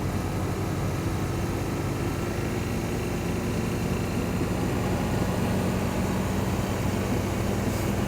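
A KTM 390 motorcycle engine running steadily in third gear while riding, a continuous broadband drone with wind rush that holds at a constant level throughout.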